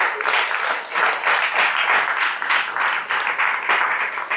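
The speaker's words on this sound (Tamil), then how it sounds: "மலர்விழிக்கு ஒரு பலத்தை கைத்தட்ட விடுங்க பார்க்கலாம்." A gathered audience at a Tamil temple-related event claps loudly for a woman named Malarvizhi, a full, continuous round of applause with a steady rippling texture and no voices.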